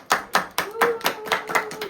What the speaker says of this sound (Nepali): ताली बजाउँदा नि क्यु दिन पर्ने यार